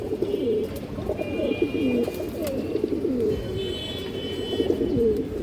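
Pigeon cooing continuously at close range, with low rolling coos repeating in overlapping phrases from a loft of high-quality fancy breeds, with no talking.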